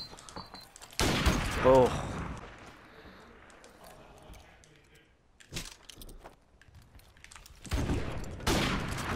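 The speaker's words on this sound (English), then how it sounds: "All right, first shot of the game right here." Gunfire in a Modern Warfare Remastered trick-shot match: a loud burst of shots early on, scattered smaller impacts, then another heavy volley at the end, with a brief voice exclaiming.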